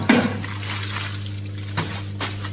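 A roasting tray holding a foil-sealed two-kilo chicken is picked up, giving a brief metallic clank at the start and a couple of lighter knocks later, close by over a steady kitchen hum.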